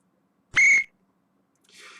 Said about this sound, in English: we've got a whistle and an illegal defense warning on the Bulls